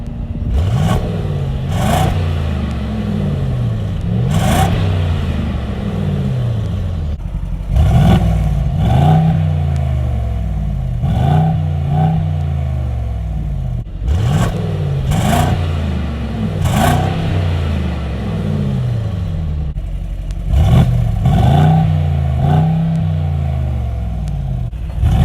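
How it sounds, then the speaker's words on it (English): A 2021 Mercedes-AMG GLS 63 V8 engine revs repeatedly, each sharp blip of throttle rising then falling back to a deep burbling idle, loud and close. "to go along with all that AMG power is AMG sound"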